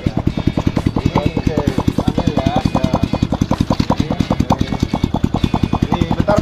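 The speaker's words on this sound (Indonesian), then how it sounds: "ini motornya nggak bisa dimatiin" A motorcycle engine idling that cannot be switched off, chugging in a steady fast rhythmic pulse close by, with people talking over it.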